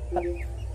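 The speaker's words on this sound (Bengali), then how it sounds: "এই যে মুরগি নিয়ে নেওয়া হলো, 3 কিলো 300 হয়েছে" A live chicken at a market being weighed gives a single short cluck, close and fairly clear, over a steady low background hum.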